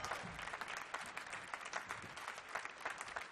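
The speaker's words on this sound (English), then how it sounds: "How about another round of applause for the wonderful Master Sergeant Crystal Reams?" Audience applause for Master Sergeant Crystal Reams, a singer with the U.S. Army Blues at the Millennium Stage, a dense steady clapping from a crowd that fills the whole stretch at an even level.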